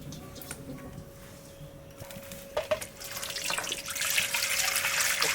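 Cut bottle gourd pieces swished and rinsed in a pot of water, with splashing and trickling that grows louder and more continuous toward the end, plus a few sharp knocks midway.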